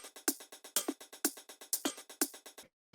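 A quick electronic percussion pattern from a drum rack, crisp, clicky hits in steady rhythm, with brighter accented hits every half second, then it stops.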